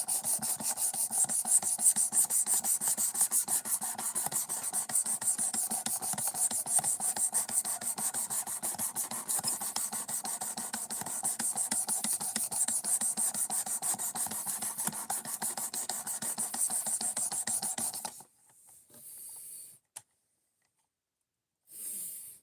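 Knife edge sharpened by hand, a rapid continuous rasping stroke that fills most of the time, close and fairly loud, then stops abruptly into near silence with a couple of short scrapes at the end.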